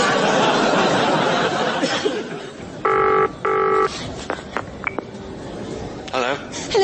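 Telephone ringing as a sound effect in an audio comedy: two bursts of a trilling electronic ring close together, heard amid ongoing studio dialogue, with a few later clicks and tones.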